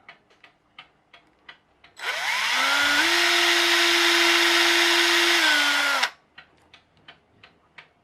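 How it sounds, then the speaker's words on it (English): A power drill bores through 3D-printed plastic using a metal axle as the bit, a loud steady whine lasting about four seconds, framed by quiet clock ticking before and after, with no talk. "Using one of the axles as my drill bit."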